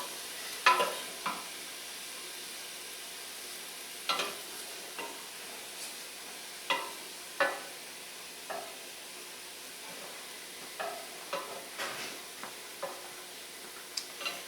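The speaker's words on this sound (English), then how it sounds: "pieces are like toasting right up here." Pieces toast in a pan for pesto, a faint steady sizzle beneath sparse light clicks and scrapes as they are stirred.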